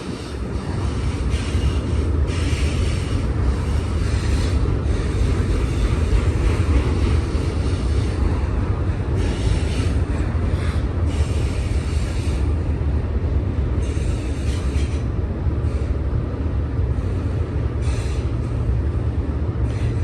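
A BNSF freight train with tall auto rack cars rolls past close by at Cajon Summit, a loud, steady rumble of wheels and cars lasting throughout with faint squealing and clatter on top.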